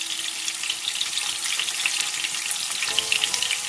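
Prawns for crispy restaurant-style prawn 65 fry in hot oil, a bright, continuous crackling sizzle with scattered sharp pops, close and steady throughout.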